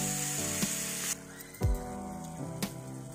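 Oil and masala spices sizzle and crackle steadily in a pressure cooker, then a clank and the sizzling drops lower, with a few more metallic knocks.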